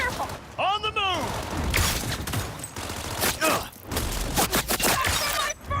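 Gunfire pops and bursts through a chaotic shootout in Cyberpunk 2077, with a sniper behind a van. Dense, loud shots mix with shouting voices and impacts, and there are short breaks between the volleys.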